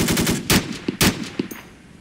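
Gunfire from German soldiers in the Arma 2 Invasion 1944 airport assault: several sharp, loud shots in an irregular burst, with a short trailing crack near the end and no talking.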